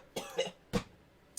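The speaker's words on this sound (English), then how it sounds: "I'm starting to cough." A person coughs a few times, short dry bursts at close range with quiet gaps between them.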